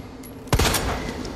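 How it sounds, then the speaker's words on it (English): A single sharp gunshot in Resident Evil 2 Remake, loud and close with a short booming tail, set against a quiet sewer ambience. "Yeah, shoot him real fast."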